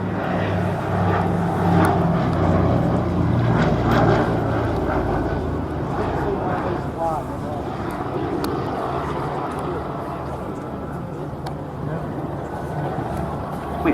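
A PBY-5A Catalina flying boat drones past at Scampton, its steady propeller-engine roar sustained and fairly loud throughout, with a voice talking over it.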